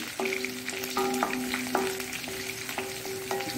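Onions sizzle in coconut oil for a Mangalorean-style breakfast dish, with a close, steady frying hiss and a few stirring clinks. No one speaks.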